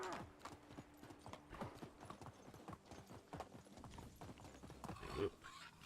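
Horse hooves clip-clop in the medieval village game Medieval Dynasty, a quick, fairly faint rhythmic trot with a brief whinny near the end.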